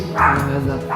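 A dog barks once loudly and close, a short bow-wow with a whimpering tail and the start of another bark.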